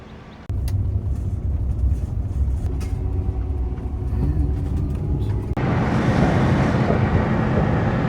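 A vehicle driving along a road in cloudy, misty weather, steady low road and engine rumble from inside with wind noise, growing rougher and louder toward the end.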